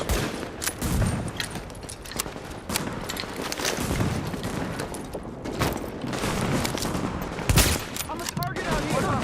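Sustained gunfire in The Division, a third-person shooter: dense automatic bursts and repeated shots rattle on for several seconds, with occasional booms and shouted voices mixed in.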